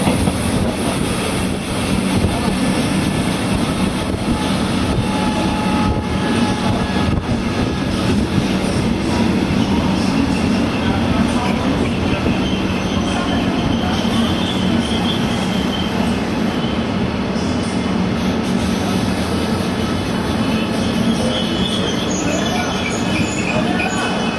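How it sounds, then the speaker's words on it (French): A train runs over a fairly new rail link into Prague main station, with a steady, loud rolling rumble and wheel noise, occasional squeals, continuous throughout with no talk. "Nous empruntons alors un raccordement ferroviaire assez récent, avant d'arriver dans la gare centrale"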